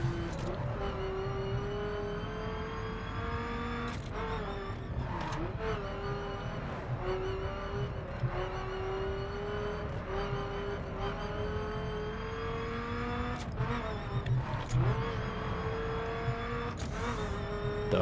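Racing car in The Crew on PC with a turbocharger whistling over a steady engine drone, a high thin tone rising and falling with throttle, constant and close throughout, with occasional brief clicks.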